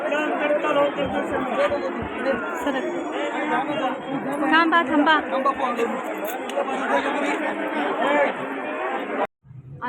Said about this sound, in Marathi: गर्दी आहे बापरे